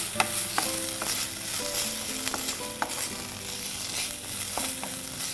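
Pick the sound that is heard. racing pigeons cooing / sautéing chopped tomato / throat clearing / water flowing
sautéing chopped tomato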